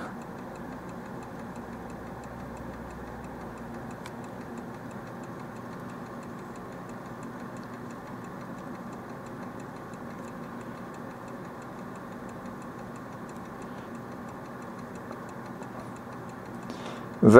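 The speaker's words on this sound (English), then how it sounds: "It's clicking because there's no pendulum in it." A 1930s German Haller Art Deco clock with its pendulum removed, clicking in a steady, rapid tick over a soft, even background hum, close and fairly quiet, ending in a brief louder knock.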